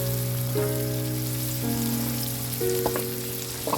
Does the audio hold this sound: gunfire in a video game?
no